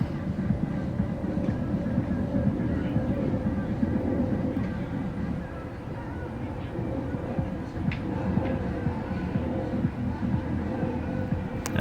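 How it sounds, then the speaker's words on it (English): A drone flying overhead puts out a steady, continuous whirring drone that holds at an even level throughout, with no voices. "We got the drone right up here."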